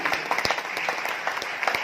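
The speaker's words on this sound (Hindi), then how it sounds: "इन सभी लोगों से एक बार जोरदार तालियां होनी चाहिए" Applause from an audience at a managers' retreat, fairly faint and short, with scattered distinct claps over a thin background of clapping.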